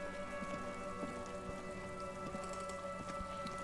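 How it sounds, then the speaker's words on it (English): Rain falls in the video game Disco Elysium, a steady, even patter of drops on surfaces over a soft, sustained musical hum. "But it starts to rain."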